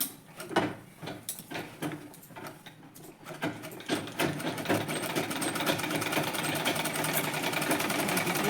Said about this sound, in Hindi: इस तरीके से मैं जब कॉर्नर अटैच करूँगी तो सिलाई थोड़ा लंबी कर लूँगी